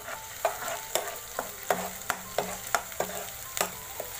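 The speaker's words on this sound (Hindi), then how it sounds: "अब इसको अच्छी तरीके से चला लें।" Masala for chicken changezi being roasted in a pan, with regular close scraping stir strokes roughly every half second over a low continuous sizzle, no talking.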